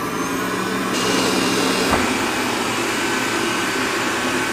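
A Roborock S6 Pure robot vacuum runs with its mop attached over hardwood floors, producing a steady, close, loud motor whir that holds unbroken throughout.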